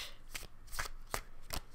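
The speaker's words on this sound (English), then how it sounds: "Okay, I'm going to cut this deck in two." A tarot card deck being shuffled and cut by hand, four quick crisp riffling bursts at a steady rhythm, close and fairly quiet with no talking.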